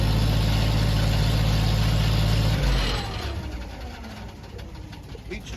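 A tractor engine runs on a dynamometer with a deep, steady, close hum that drops off after a few seconds into a quieter, lighter running sound.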